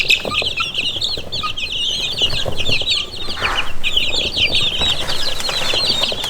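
Several chickens cluck close by in a steady, overlapping chatter, with a few louder squawks and possible wing flaps mixed in.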